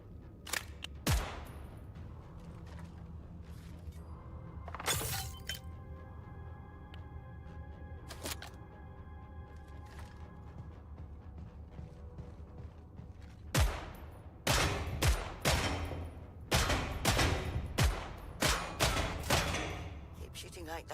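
Gunfire in Killing Floor III as a player shoots at targets: repeated sharp bursts and single shots, clustered early and in a dense rapid run near the end, over a steady game backdrop.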